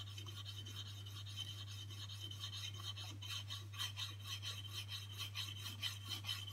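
Back of a paring chisel rubbed flat on a sharpening stone under light pressure, a steady close rasping scrape in repeated back-and-forth strokes over a constant low hum.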